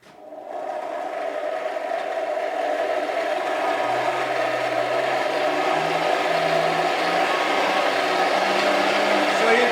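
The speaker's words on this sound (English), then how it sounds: "in order to demonstrate the power from this hand cranked old fan, I've got somebody in to crank it" A hand-cranked old forge fan spins up from rest into a steady, loud whirring drone, with a faint rising tone as the cranking speeds up.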